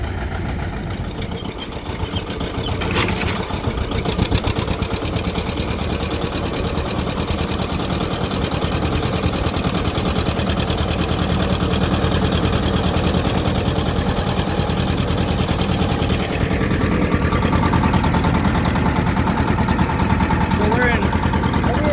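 A John Deere 70 tractor engine runs steadily while plowing, a loud continuous low throb close by for the whole stretch, with voices talking over it.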